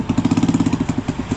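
A motorcycle engine runs close by with a loud, rapid, lumpy putter whose pulses slow slightly toward the end, heard alone with no talking.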